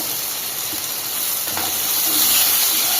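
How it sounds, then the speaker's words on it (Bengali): Small-cut vegetables with turmeric, salt and green chilli fry in a pan with a continuous airy hiss that grows slightly louder toward the end. No voices are heard. "ব্যাস এবার নাড়তে থাকবো ভাজা হবে"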